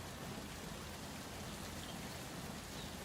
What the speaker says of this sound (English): we're going to ride this guy back even though it's raining